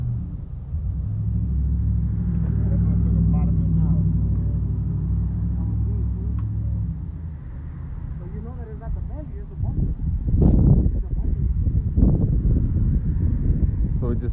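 A car with hydraulics on a test run gives a low steady motor rumble for several seconds, then quieter, followed by louder thumping bursts and clanks near the end, with wind buffeting the mic.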